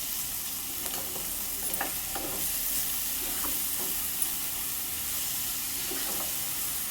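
Bangda mackerel curry is stirred in a pan, with soft scraping strokes every second or so over a low, continuous sizzle. The sound is quiet and close, with no voices.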